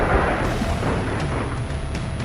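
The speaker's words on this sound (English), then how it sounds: "let's grenade this" A grenade blast in the video game Sons of the Forest comes as a dense, continuous roar of low rumbling noise, loud and sustained from start to finish, with no speech.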